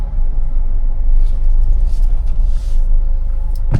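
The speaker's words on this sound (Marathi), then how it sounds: "अशी टाकला रिव्हर्स गिअर, घेतली गाडी पाठी" A car engine rumbles low and loud in reverse gear while being parked on a street, a steady close drone with a brief sharp knock at the end.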